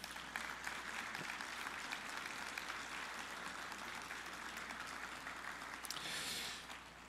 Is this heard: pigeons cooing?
no